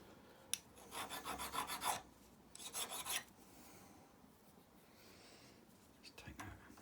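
A metal file rasps across nuts during restoration of a Lister CS engine top end, with two bursts of quick, close back-and-forth strokes and a few faint scrapes after a pause.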